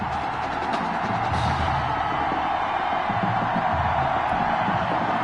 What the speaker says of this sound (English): the crowd is loud and on its feet as Ricky Sutherland gets things started.